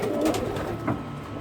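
Pigeons coo softly in a loft holding about thirty birds. Low, murmuring calls overlap close by, with no one talking.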